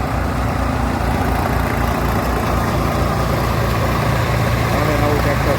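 A new tractor engine runs steadily nearby, its low rumbling drone unbroken throughout, with a voice faintly present over it.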